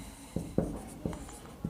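Chalk or marker strokes on a classroom board during an algebra lesson, four short distinct scratching taps spaced about half a second apart, close and moderately quiet with no talking over them.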